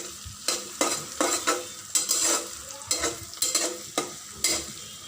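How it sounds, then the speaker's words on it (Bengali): Garlic, ginger and spices frying in oil for a Bangladeshi sour-sweet plum pickle, with a steady sizzle broken by repeated scraping stirs of a spoon against the pan, close and fairly loud, no talking. "মশলাটাকে ভেজে নেব।"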